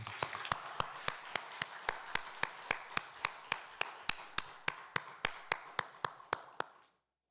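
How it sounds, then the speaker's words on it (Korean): A church congregation at a Sunday worship service claps in a steady, unified rhythm, about three crisp beats per second for roughly seven seconds, then stops abruptly into silence. "하나님께 영광의 박수를"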